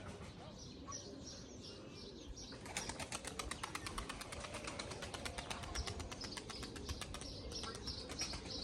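A young pigeon's wings flap in a rapid burst of beats close by, after a stretch of softer rustling and faint chirps.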